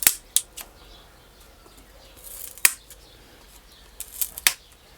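Sharp scissor snips cutting through van dashboard material during a repair, several separate crisp clicks scattered irregularly with quiet gaps between, close and fairly loud with no talking.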